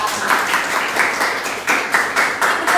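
Applause from students in a classroom, a short spell of moderately loud clapping in uneven bursts that keeps going throughout.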